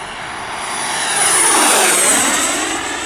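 Flyfans MiG-25 Foxbat EDF model jet making a high-speed low pass down the flight line, a loud rushing ducted-fan whine that swells as it approaches close by, peaks mid-pass and eases slightly as it moves away.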